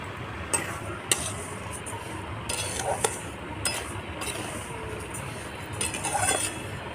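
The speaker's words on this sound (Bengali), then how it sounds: "ঘিটা দিয়ে অল্প করে ভেজে নেব অল্প ভেজে নিয়ে চিনিটা দিয়ে দিচ্ছি" Semolina frying in ghee with sugar in a pan, a soft continuous sizzle broken by occasional scraping and clinking as a spoon stirs against the metal, heard close with no talking.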